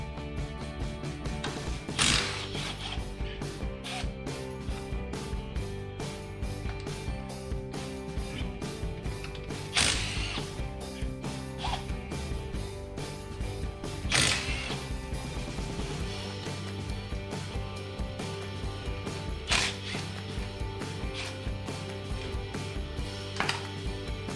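An impact gun with a 13mm socket working bolts loose on a winch of a CFMOTO side-by-side, steady mechanical whirring and rattling with several sharp bursts of hammering spaced a few seconds apart, no talk.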